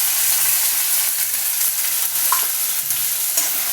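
Garlic, onion and tomato fry in hot oil for a sukha javala dish, giving a loud, close, constant sizzle with light stirring scrapes and one brief clink.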